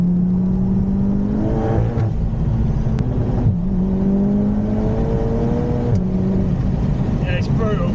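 An Audi TT Mk3 with a stage 2 remap and a big turbo accelerating hard through several gears, heard from inside with the engine note climbing and dropping at each shift while people talk over it.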